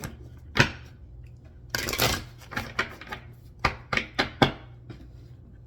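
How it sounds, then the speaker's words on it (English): Crisp, irregular bursts of tarot card shuffling and riffling up close, with short slaps and pauses between them. "I'm just gonna shuffle this"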